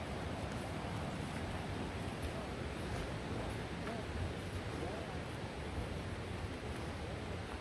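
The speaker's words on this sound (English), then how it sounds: "River." A river flows steadily beside a trail near Spence Cabin in Elkmont, Great Smoky Mountains, Tennessee: a constant, broad rushing wash with no break in level.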